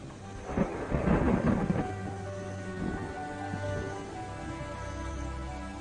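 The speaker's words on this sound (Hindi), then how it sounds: "मैदानों को भिगोती है बारिश" Rain falls steadily over open plains while a loud, rumbling thunderclap rolls through early on, then fades into continuous rainfall.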